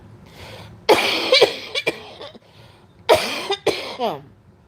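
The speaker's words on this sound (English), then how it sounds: "No, I'm coughing." Several harsh coughs in two bursts, close and loud, with brief quiet gaps between them and no talking.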